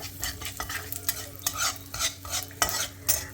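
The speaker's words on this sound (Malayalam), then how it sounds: "കടുകും ജീരകവും കായപ്പൊടിയൊക്കെ ഒന്ന് ഇട്ടിട്ട് കരിക്കാതെ ഒന്ന് ഇളക്കിയെടുക്കുക" Mustard seeds, cumin and asafoetida sizzle in hot oil as a spoon stirs them in a pan, giving rhythmic, close scraping strokes over a crackling fry with no voices.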